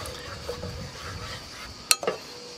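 Caponata with tomato sauce gets mixed in a pan: soft scraping and light sizzling, then a couple of sharper clinks of a utensil against the pan near the end, close and without talk.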